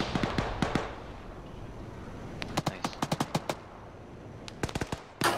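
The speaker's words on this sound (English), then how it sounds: "That was a Vads. It's an M113 with a Gatling gun on it." Gatling gun on an M113 VADS air-defense vehicle in the military game ARMA 3 fires in rapid, sharp bursts, a few scattered shots and then two clusters of quick rattling fire, loud against a steady low background.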